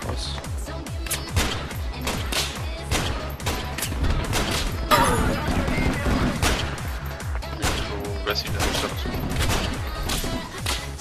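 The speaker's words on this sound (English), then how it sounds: "Oh, I'm getting shot at by someone." Rapid gunfire in an online shooter video game, with dense bursts of automatic shots and sharp cracks repeating loudly and almost continuously, plus a heavier impact in the middle.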